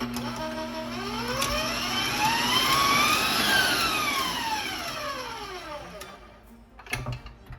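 An electric mixer whips meringue after vanilla and salt go in for a vanilla meringue cake. Its motor whine rises and falls in pitch as the speed changes, loud and close, before ending in a brief clatter.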